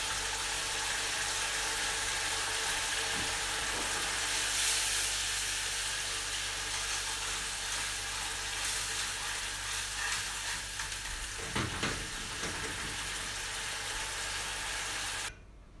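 Tomato purée, 100 cc, poured into a very hot pan for puttanesca after a high-heat flambé, sizzling loudly and steadily with a dense hiss, a few soft clinks of stirring, then cutting off abruptly at the end.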